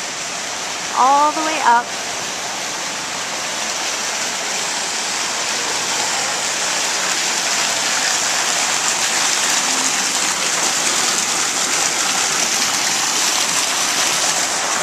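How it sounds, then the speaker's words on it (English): Indoor waterfall fountain in a hotel lobby, a steady rushing splash that fills the whole scene; a person speaks briefly near the start over it. "Check it, waterfall."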